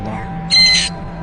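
Parrot mimicking high-pitched screams, one short shrill screech bursting out over a low background hum.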